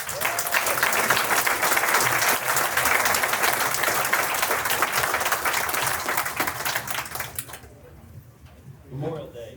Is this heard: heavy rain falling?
no